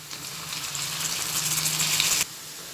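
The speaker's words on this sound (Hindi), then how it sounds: "अभी इसमें हम हमारे तिंदले ऐड करेंगे और इसे अच्छे से फ्राई कर लेंगे" Ivy gourd (tindora) frying in a pan, a steady, bright sizzle with a hissing, spattering texture that runs evenly for a couple of seconds and then drops away sharply.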